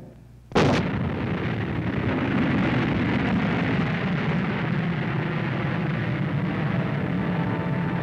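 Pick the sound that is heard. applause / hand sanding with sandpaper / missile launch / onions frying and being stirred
missile launch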